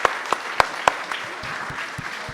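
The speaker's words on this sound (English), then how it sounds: "We'll give you a round of applause." A live audience at a livestreamed political talk event in 2024 breaks into applause, a few sharp claps standing out at the start over a steady patter of many hands that continues to the end without fading.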